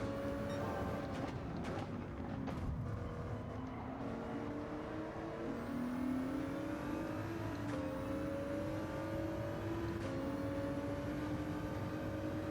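Ford GT race car engine in Gran Turismo 7, racing on Sardegna Road A, a steady loud drone with rising and falling pitch through gear shifts and acceleration, close and continuous with no talk.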